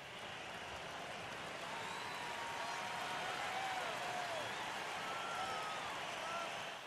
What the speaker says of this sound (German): Und die Fans jubeln.